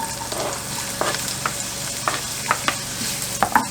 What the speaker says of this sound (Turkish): Biberleri böyle kavruyoruz.